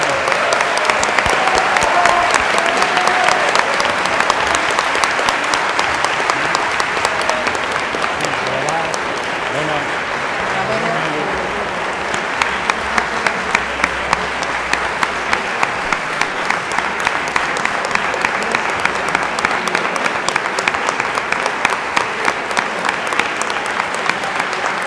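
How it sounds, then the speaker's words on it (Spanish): A Physics Olympiad closing-ceremony audience applauds the overall winner with long, steady clapping, starting loud and thinning into more distinct individual claps toward the end, with a voice briefly over it. "aplauso"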